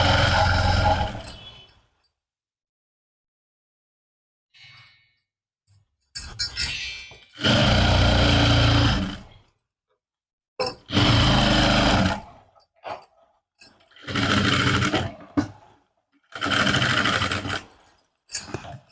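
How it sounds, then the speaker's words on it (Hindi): A sewing machine stitches suit lining in several separate bursts of loud, steady running, broken by silent pauses where the fabric is handled; nobody talks. "अब सिलाई लगा देंगे"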